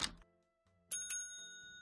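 A bell rings in the Hotel Business Simulator video game, with clear ringing chimes that strike twice in quick succession and then sustain, alone without talk.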